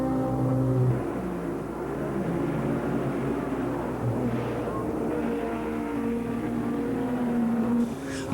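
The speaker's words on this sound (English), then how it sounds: "This is the Elkhart Lake Road America race, which the Mustang GT won." A Mustang GT race car at Road America in Elkhart Lake runs with a steady, droning engine note that holds loud and continuous throughout, with faint talk mixed in.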